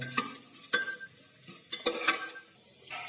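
Dry nuts sautéed in a pan for pulao, with a light close sizzle under sharp, irregular clinks and scrapes of a spoon against the metal.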